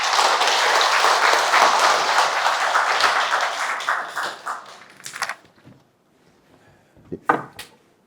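Event audience at a creditors' association gathering applauding loudly and densely for several seconds, then thinning out to a few scattered claps and taps before stopping.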